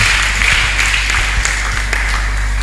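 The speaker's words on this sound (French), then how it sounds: "Applaudissez pour le Seigneur Jésus." Applause from a church congregation fills the space, with many hands clapping steadily and loudly and individual claps blurring into a continuous wash.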